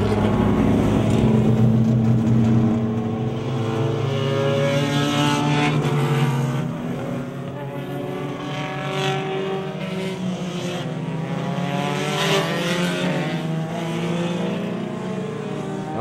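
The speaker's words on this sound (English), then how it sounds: "the pace car pulls back out to lead another warm-up lap" Honda Challenge race cars on a warm-up lap behind the pace car at Mid-Ohio, their engines droning and swelling as they pass at moderate distance, overlapping tones rising and falling across the lap.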